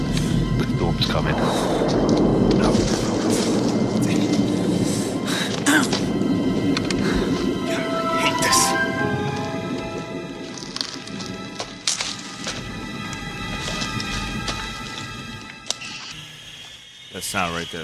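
A dense, dark wash of rumbling film storm noise with rain and thunder, creaking, crackling textures and sustained eerie tones, swelling then fading.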